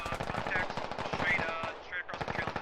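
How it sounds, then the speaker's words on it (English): Sustained machine-gun and rifle fire in a firefight between U.S. forces and militia in the video game Squad, rapid bursts of shots close by, dense and continuous with no talk. "firefight happening here between U.S. forces and the militia"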